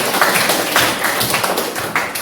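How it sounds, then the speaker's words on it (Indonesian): An audience in a classroom applauding, a short, steady wash of clapping from many hands nearby with no break. "Kita berikan aplaus dulu."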